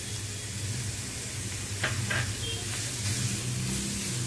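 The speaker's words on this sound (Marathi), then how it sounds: "आता हे जरा चांगलं परतून घेते।" Chopped prawns, onion and corn sautéing in a pan, giving a continuous close sizzle with a couple of brief scraping stirs partway through, over a steady low hum.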